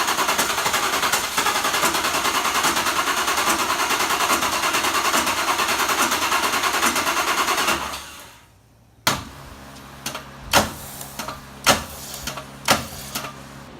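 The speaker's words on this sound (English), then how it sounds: "now I guess we just try to start her up" A Jeep CJ7 engine with electronic fuel injection starts up and runs loud and rough for about eight seconds, then cuts out. A handful of sharp metallic clicks and knocks follow in the quiet.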